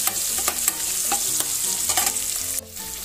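Green chilies and onions sizzle steadily in a pan while a utensil stirs them with repeated scraping strokes, close and continuous, with no voices.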